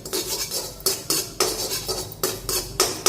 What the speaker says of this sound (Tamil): எள்ளு வந்து சவுண்டு வருதா பாருங்கள் சவுண்டு வருது பாருங்கள் பொரியுது